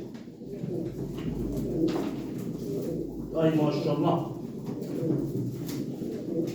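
Released pigeons coo at a live pigeon auction, soft throaty rolls rising midway through, while someone talks over them and the room hum continues underneath.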